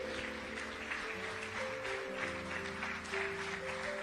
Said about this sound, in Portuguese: Aplaude ao Senhor, igreja.